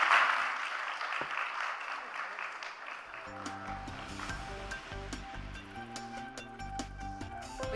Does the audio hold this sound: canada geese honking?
no